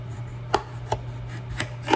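A knife cuts down the middle of a potato, producing a few sharp, quiet knocks against the dish spaced about half a second apart over a faint background hum.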